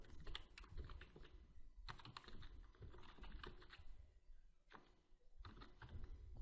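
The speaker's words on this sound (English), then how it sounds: "Type the link to your app" Quiet, close typing on a computer keyboard while entering a link, with clustered rapid key clicks broken by short pauses.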